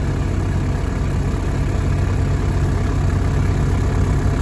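Tractor engine idling on a farm while hauling hay, a loud, steady low diesel rumble held throughout, close and unbroken, with no talking.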